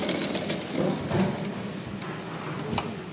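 A sewing machine runs while stitching a kids' langa jacket, a soft uneven whirring with light ticking clicks at close range, fairly quiet throughout.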